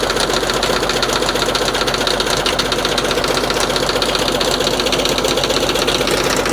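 An old Ford tractor engine runs at a steady, rapid chug, loud and close, with a rhythmic knocking pulse and constant mechanical vibration, no voices over it.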